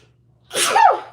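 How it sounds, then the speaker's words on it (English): A single close sneeze, with a short breathy intake that builds into one sharp, explosive burst, heard alone in a quiet room. "Hold on, I'm about to sneeze."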